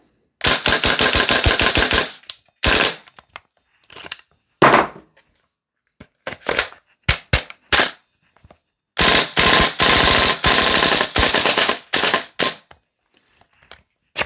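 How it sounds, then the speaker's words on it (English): Rapid full-auto bursts from a VFC URGI 10.3-inch M4 gas blowback airsoft rifle, loud and close, with long strings, short stutters and scattered single shots. "I think the gun likes the mags on gas than CO2 with the full auto."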